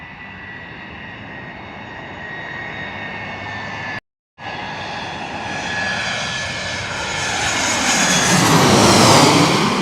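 An American Airlines jet on landing approach to runway 4 at LaGuardia in Queens, New York, its engine roar loud and steady, then swelling nearer and heavier toward the end with a broad rushing whine.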